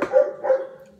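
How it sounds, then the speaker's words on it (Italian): A dog barking from an open window at passers-by gives two quick close barks, the second trailing off into a brief fading tail. "mi va alla finestra e abbaia tutti"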